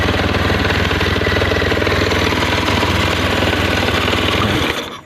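A Honda Scoopy FI scooter engine runs steadily after a kick start, a loud, continuous close-up chugging idle with a fast mechanical rattle that cuts off abruptly at the end.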